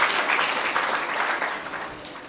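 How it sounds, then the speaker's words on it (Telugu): A church congregation clapping their hands together, giving a dense, steady burst of many hands that fades slightly toward the end, with no speech over it. "చప్పట్లు కొట్టి దేవుని స్తుతిద్దాం"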